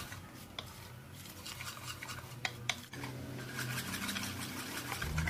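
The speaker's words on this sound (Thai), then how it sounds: "จากนั้นก็ตีหรือว่าคนส่วนผสมให้เข้ากัน" Whisking pancake batter of flour in a bowl for a mango pancake, a steady scraping and stirring with small clinks of utensil against the bowl, close up and continuous with no talk.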